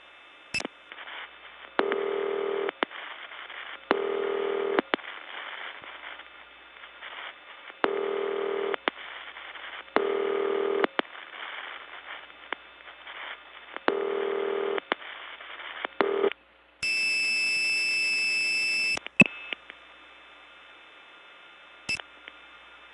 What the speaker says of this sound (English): I'm going to blow 2600 really quick to disconnect